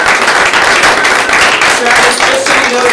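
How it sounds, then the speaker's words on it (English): A room full of people at an office meeting applauds a special guest, loud close clapping that runs steadily throughout, with some voices mixed in. "You guys give him a round of applause"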